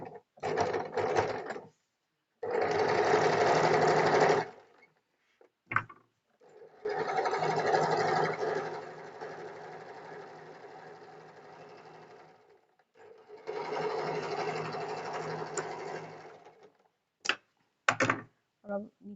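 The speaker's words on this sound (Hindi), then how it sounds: "इस तरीके से ऐसे फोल्ड करके यहाँ एक दाब वाली सिलाई लगानी है।" Sewing machine stitching a folded seam on a belt blouse, running in several steady mechanical bursts of rapid whirring stitches, close and clear, separated by pauses with a few short clicks.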